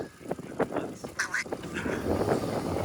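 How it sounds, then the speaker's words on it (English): Ducks quack in short bursts at close range, with a person's voice briefly mixed in among the calls. "Oh no, the ducks!"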